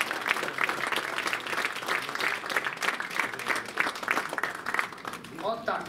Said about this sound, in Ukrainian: Тепер ваші оплески Галині Нікітенко